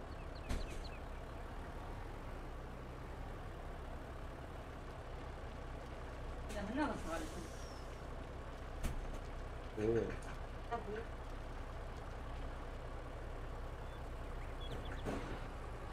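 A truck engine rumbles low and steady in the Farming Simulator video game, with short hissing bursts like air brakes now and then, all fairly faint beneath a person talking.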